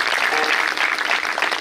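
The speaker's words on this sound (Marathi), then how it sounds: "यांच्यासाठी जोरदार टाळ्या वाजवणारे" A devotional kirtan audience claps loudly and continuously in praise of the singers and musicians, a dense, even burst of applause from a large crowd with no talking.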